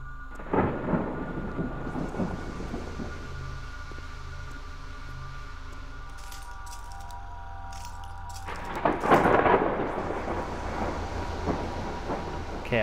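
Thunder rolls and crackles through a stormy night in the horror game Kraven Manor, with a steady rain-like wash underneath and a loud sharp crash near the start and another heavy rumble late on.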